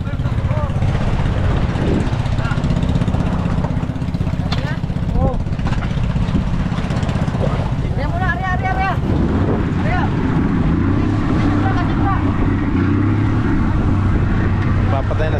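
A steady boat engine drone runs throughout, loud and close, with wind buffeting the microphone and some faint voices mixed in.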